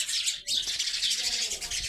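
Dense, continuous high-pitched chirping of sparrows, many birds calling at once, steady and fairly loud throughout.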